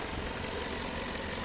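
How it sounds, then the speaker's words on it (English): A 2021 Jaguar XF P300 R-Dynamic's 2-liter turbocharged engine idles with a steady, smooth hum and a faint whirring hiss, close by and unbroken, with no talking. "Pretty smooth engine, pretty torquey, mates really well with this ZF 8-speed automatic."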